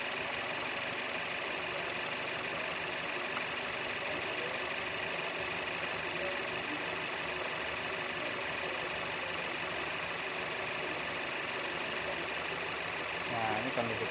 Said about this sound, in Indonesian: Ini fan belnya berputar karena sudah dihidupkan ya.